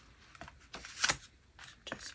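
Paper being folded back over a paper clip gives soft crinkling and rustling in a few short bursts, close and quiet.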